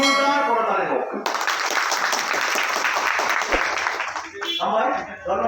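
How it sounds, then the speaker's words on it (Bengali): A crowd at a political meeting for people joining a party breaks into loud sustained applause after a voice speaks, the clapping dense and close before it fades back into talk. "আমি অনুরোধ করব সবাইকে যারা আজকে এখানে যোগদান করেছেন তাদের জন্য একটা জোরদার করতালি হোক"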